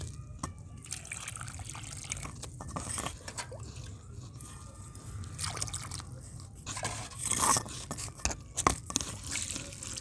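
Water poured into a bowl of crumbled material gives off soft trickling and splashing mixed with small crunchy crackles, steady and close for about ten seconds, without any talking.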